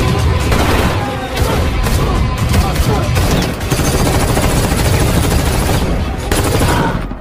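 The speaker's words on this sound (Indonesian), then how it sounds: "hingga baku tembak pun tidak terelakkan lagi" A film shootout, where rapid automatic gunfire and heavy shots pound nonstop at close range, loud throughout the whole stretch.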